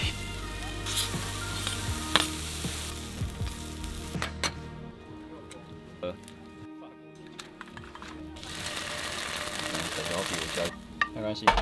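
A mushroom omelet sizzles steadily in a pan on a camper-van stove, with scattered clicks and scrapes of stirring over the continuous close frying hiss.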